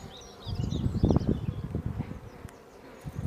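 Dense buzzing of many honey bees in an open hive of a strong colony, close and steady, swelling louder in the middle and then easing slightly, with no voices.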